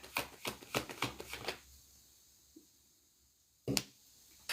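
Tarot cards being shuffled by hand, a burst of quick riffling flicks close up, then a quiet gap and a single sharp card snap near the end.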